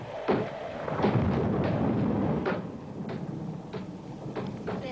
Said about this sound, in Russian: Это просто ставни стучат о дом.